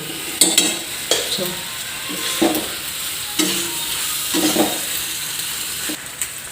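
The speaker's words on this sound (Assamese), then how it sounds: "এতিয়া আমি গোটেইখিনি লাৰি দিম।" Macaroni pasta with two spoons of mayonnaise is stirred in a hot pan, a continuous soft sizzle broken by repeated scraping strokes of a spoon at a steady, unhurried rhythm, close and without talk.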